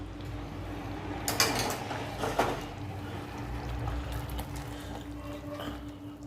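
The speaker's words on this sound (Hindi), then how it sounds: "इसमें अभी एक आधा लीटर और गर्म पानी डालेंगे हम" Hot water, about half a litre, poured into a cooking pot on a gas stove, with a couple of louder splashing bursts over a steady background hum, close by and moderately quiet.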